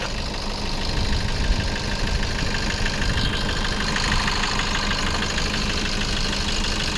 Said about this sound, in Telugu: చూసుకోవచ్చు ఇంజన్ సౌండ్.